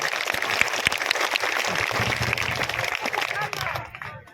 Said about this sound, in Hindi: ताली में दम नहीं।